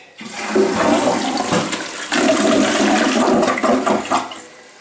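A household toilet flushing, loud and close, with a strong rushing swirl of water that surges twice and then drains away.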